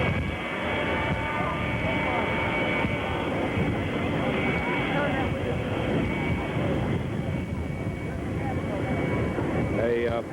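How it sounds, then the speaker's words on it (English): Air Force One, the presidential jet, taxiing at Dallas Love Field, a constant roaring engine drone throughout, with someone narrating over it. "Now Air Force number 1 taxiing in."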